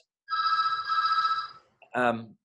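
A landline telephone rings in two short trilling bursts during a podcast interview, clear and close, with a brief pause between rings and no talk over them.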